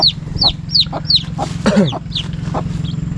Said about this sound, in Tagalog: Ito yung inahin, ilagay muna natin sa sako.